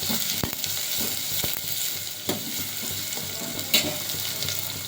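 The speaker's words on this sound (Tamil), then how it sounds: "வெங்காயம் போட்டு இதை வதக்கலாம்." Onions sauté in hot oil in a pan alongside garlic for a sweet potato curry, giving a steady loud sizzle broken by a few sharp stirring scrapes, close up and without talking.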